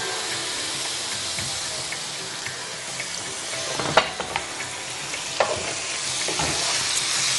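Spices, ginger and garlic with turmeric and salt fry in oil, giving a dense, continuous sizzle up close, broken by a few sharp scrapes and knocks of stirring.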